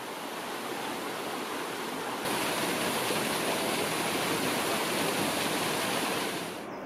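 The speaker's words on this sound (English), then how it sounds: "A lovely little waterfall prompted another stop." A small waterfall in Bhutan rushes steadily and continuously, a dense, even roar of falling water that swells slightly partway through, with no voices.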